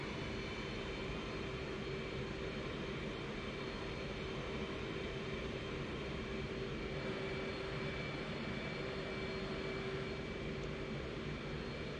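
F/A-18 jet engine in the DCS flight simulator video game: a steady, unbroken turbine roar with a faint high whine, constant and moderately quiet throughout, no voices.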